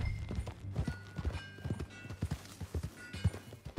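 Horse hooves clip-clop at a steady trot in Red Dead Redemption 2, close and rhythmic over a low ambient bed, with a faint background tone and occasional creaks.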